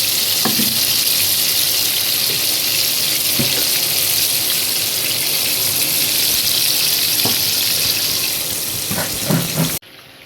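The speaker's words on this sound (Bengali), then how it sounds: "এই যে বললাম মাছটা আমি একটু ভেজে নেবো" Fish fries in oil with a loud, dense, continuous sizzle that holds steady with a few faint clinks, then cuts off abruptly at the very end.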